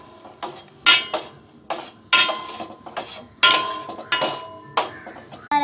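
Papaya pieces are stirred in sugar syrup in a pot, giving a series of sharp metallic clinks and scrapes as the spoon strikes the pot in an uneven rhythm. The sounds are close and clear, with no talking.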